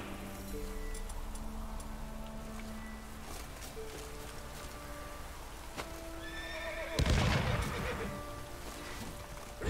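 Horses of mounted bandits in Witcher 3 neigh and whinny several times, with hooves clip-clopping over a steady outdoor background, building to a louder burst near the end.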